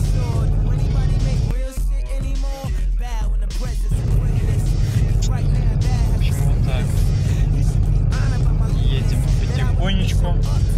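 A car creeping along a slippery, snowy country road at about 50 km/h, a low steady engine and tyre rumble beneath someone talking close by.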